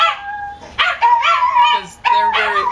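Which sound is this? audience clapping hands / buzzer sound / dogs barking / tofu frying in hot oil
dogs barking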